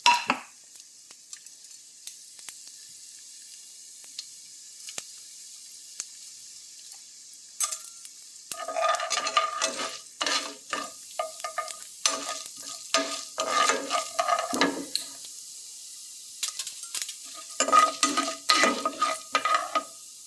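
Chana dal and urad dal dropped into hot oil for a cabbage and coconut stir-fry sizzle steadily, with a spoon scraping and stirring the pan in close, irregular bursts.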